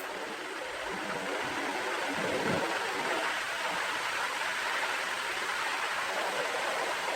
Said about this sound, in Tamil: வெங்காயம் நல்லா எண்ணெயில் வெந்து வெ ஃப்ரை ஆகி வரணும்